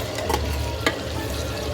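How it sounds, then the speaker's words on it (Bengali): Potato pieces fry in a pan of hot oil, a constant sizzle with two sharp stirring scrapes from a utensil, close and loud, no voices. "এই যে আলু ভাজছি"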